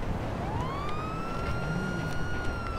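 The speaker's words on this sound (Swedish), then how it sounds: "Stänga av sirenen också." A police car siren in the video game GTA V with the LSPDFR mod wails in a rising, sweeping tone over engine and road rumble, fairly loud and steady with no talking.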